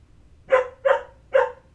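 A man imitates a dog's barking with his voice, giving three short, loud, evenly spaced barks close up with quiet between them.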